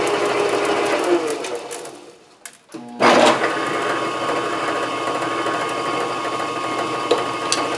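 A machine cuts threads onto a half-inch rod on a wood lathe built like a metal lathe, a dense steady mechanical whir with a short dip and restart partway through, running loud and continuous.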